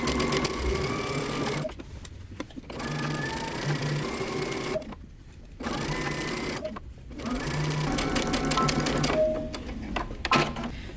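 A sewing machine stitches a peplum to a bodice with a 5/8 inch seam allowance, running in several bursts of steady, rapid whirring broken by short pauses.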